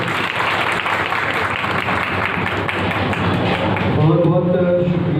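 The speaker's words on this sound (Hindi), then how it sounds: "तालियां बजाकर एक बार स्वागत करेंगे।" Audience applause welcoming a speaker at an Aam Aadmi Party workers' rally, steady dense clapping from a large crowd that holds for several seconds before a voice begins speaking near the end.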